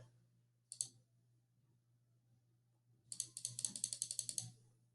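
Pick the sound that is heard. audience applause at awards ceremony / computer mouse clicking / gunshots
computer mouse clicking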